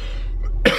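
A single sharp cough with throat clearing from a man in a gym, close and loud, cutting in after a brief quieter lull over a low steady hum.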